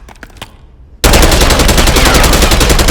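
After a short quiet lead-in, an AK74 rifle in a video game fires aimed down sights in a loud, continuous automatic burst of rapid, evenly spaced shots that runs to the end.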